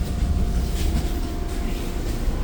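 A TTC subway train pulls into Kipling Station with a steady, heavy low rumble and a continuous rolling hum that holds at a constant level throughout, close by and with no talk.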